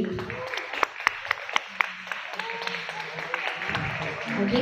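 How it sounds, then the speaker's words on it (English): Scattered applause with a few sharp individual claps at a media press conference stage, continuing under a voice over a public address system. "A round of applause for Sam YG."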